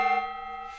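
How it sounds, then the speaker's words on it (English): A decorative gong, caught mid-ring: a bright sustained metallic tone with steady overtones that slowly fades, close and fairly loud, with a faint hiss at the tail. "Hit that gong."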